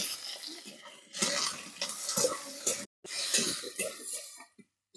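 Chopped potatoes fry with onion and tomato in a pan. A utensil scrapes and stirs in uneven bursts over a soft sizzle, with a few brief pauses and no talking.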